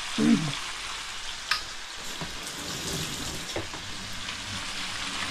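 Garlic frying in hot oil in a pan for a chicken korai, a loud continuous sizzle like steady rain, close up, with an occasional faint stir or clink and no voices.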